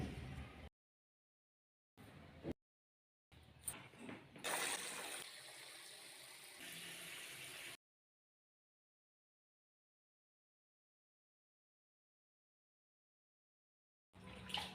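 Gongura leaves are washed in water, with short bursts of splashing and swishing, then a few seconds of steadier running and sloshing, all close and soft, separated by silent gaps.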